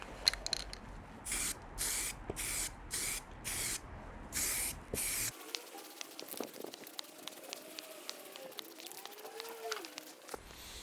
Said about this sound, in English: I'm going to put a very light coat on first of this etch primer